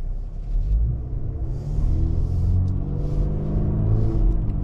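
A 2023 Infiniti QX50 Autograph driving on the road gives a low, steady interior rumble of engine and road noise, with a soft rise in engine pitch, close and continuous, no talk.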